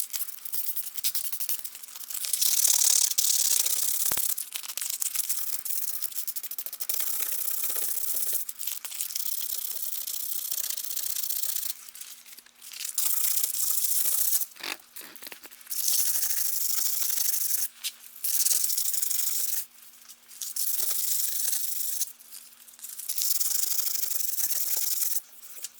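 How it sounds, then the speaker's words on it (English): Sandpaper rubs by hand over a thick wall patch in repeated bursts of dry, rasping scratching, each run lasting a few seconds and separated by brief pauses. "But we are going to have to do some sanding because it is kind of thick around there."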